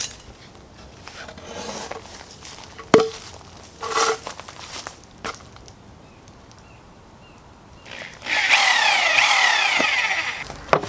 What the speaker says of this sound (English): I'm gonna drill the holes so these fish eyes can go in here